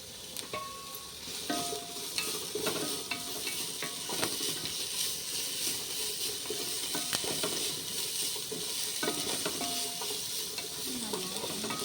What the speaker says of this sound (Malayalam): നല്ലോണക്കൊന്ന് വഴറ്റിയെടുക്കാം കറിവേപ്പില ഇട്ട് കൊടുക്കും